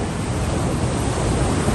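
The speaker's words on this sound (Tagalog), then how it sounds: "And ito yung dalampasigan sa seashore." Ocean surf washing onto the seashore at a crowded resort beach, a steady broadband wash with low rumble and wind buffeting the microphone throughout, no voices.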